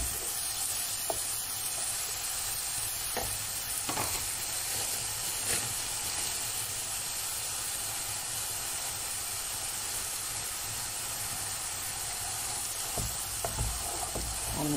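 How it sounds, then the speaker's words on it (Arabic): Onions and minced meat sizzle and fry together in a pan for a mahshi stuffing, a steady close hiss with faint stirring clicks running throughout, no voices. "احط اللحمه المفرومه بشوحهم مع بعض"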